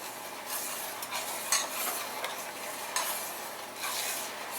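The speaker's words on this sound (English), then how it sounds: "You put in the sugar. Okay? And you quickly stir it." Sugar is stirred quickly into boiling blackberry jelly, producing a steady, soft scraping and swishing against the pot over a low bubbling hiss, with a few louder strokes.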